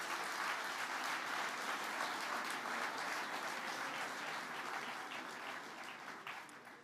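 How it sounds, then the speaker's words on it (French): A crowd at a graduation ceremony for marketing and sales graduates claps steadily in a dense, sustained round of applause that slowly tapers off toward the end. "oui, vous pouvez les applaudir."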